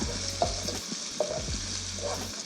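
Onions frying in a pan for adobo fried rice, a steady bright sizzle with a few scraping stirs of a utensil against the pan, close and alone with no talk.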